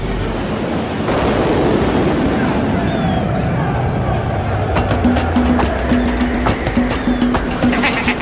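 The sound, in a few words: strong wind and waves at sea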